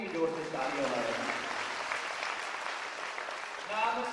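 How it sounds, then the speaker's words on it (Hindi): An audience claps loudly and steadily for the cook who made the prasad, at a Shrimad Bhagavat Katha religious gathering in a hall, with faint voices underneath. "एक बार उनके लिए भी जोर से तालियां बजाएं।"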